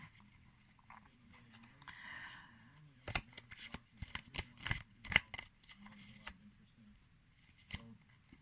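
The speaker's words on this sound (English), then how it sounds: "I'm going to shuffle you some more cards" Tarot cards being shuffled by hand in bursts of crisp riffling and slapping, close and fairly quiet, with faint background murmur and a few sharper card snaps.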